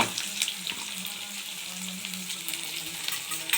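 Garlic, dried chili and chopped onion sizzle and fry in a hot pan. The hiss is steady and close, with small crackles throughout and no talking.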